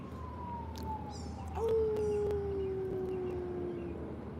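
A siren wails in the distance, sliding slowly downward, while a dog joins in with a long rising howl partway through.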